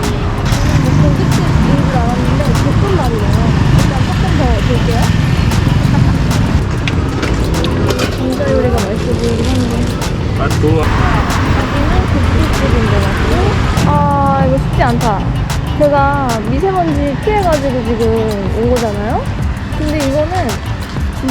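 Road traffic passes along a street in Chiang Mai, Thailand, a loud steady roar of engines and passing vehicles close by, with people talking over it throughout.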